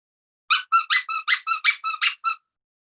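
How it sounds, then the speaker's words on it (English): A storytime puppet gives a loud, rapid series of about ten squeaks in an even rhythm, close and bright, standing alone with silence before and after. "All this time, he had a good squeak in him."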